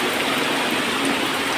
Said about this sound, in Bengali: অনেক বৃষ্টি পড়েন না মামু?